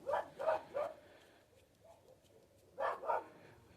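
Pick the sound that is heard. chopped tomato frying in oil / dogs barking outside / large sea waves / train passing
dogs barking outside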